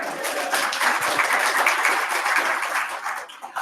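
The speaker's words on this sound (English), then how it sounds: "please give the speaker a storm of applause." Applause from a conference audience at a lightning-talk session, a dense, steady wash of many hands clapping for several seconds, fairly loud and even before thinning slightly at the end.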